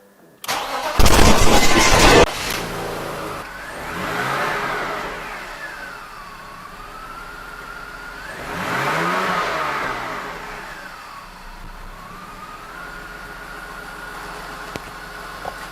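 A BMW engine with an intermittent ignition coil fault cranks and fires loudly, then settles into an uneven idle broken by two slow revs that rise and fall, close to the microphone with no talking.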